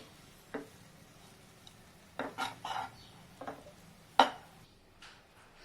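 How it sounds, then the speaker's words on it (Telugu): Cooked rice for coriander rice being mixed in a pan: a few scattered scrapes and clinks of a spoon against the metal, with one sharper knock, over quiet kitchen background. "ఇలా బాగా మిక్స్ అయ్యేటట్టు వేసుకోవాలి"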